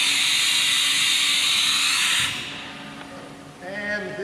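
A Haas VF2 CNC mill's automatic tool changer runs forward with a loud, steady mechanical whir that drops off after about two seconds, followed by quieter clunks and a short motor whine.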